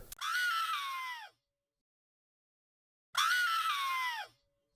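A processed, bright scream for a Halloween radio jingle soundscape, stripped of low end and compressed, comes in two long, loud, isolated cries separated by silence.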